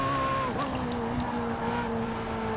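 A Ferrari 488 Pista V8 engine in the Forza Horizon 4 racing game holds a steady, high-pitched drone at close range, dipping briefly in pitch early on before settling into a sustained tone.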